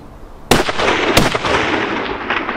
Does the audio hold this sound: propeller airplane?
no